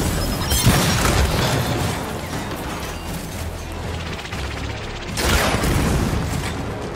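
A frag grenade explodes in Gears of War 5 with a loud, broad boom near the start, a lingering rumble, and a second heavy blast around five seconds.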